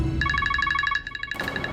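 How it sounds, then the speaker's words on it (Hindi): A mobile phone ringing with an incoming call, a bright electronic ringtone pulsing in quick even beeps, close and clear, then shifting to a new tone as the clip ends. "लो आ गया बिच्छू का फोन।"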